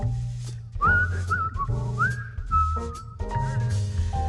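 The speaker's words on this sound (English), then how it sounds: "I'd whistle a little tune" At a jazz quintet's live showcase, someone whistles a short, lilting tune over a steady band accompaniment with bass and chords, the melody rising and falling in brief phrases.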